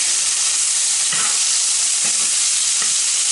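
Venison stew meat browning in a hot pan, giving a loud, dense, continuous sizzle up close, with a few soft scrapes of a spatula turning the meat.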